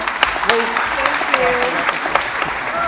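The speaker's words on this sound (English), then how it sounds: "Let's give her a round of applause." An audience applauds steadily as Michelle Alexander is welcomed at a 2012 Center for Church and Prison event. The dense, loud clapping carries a few voices mixed in.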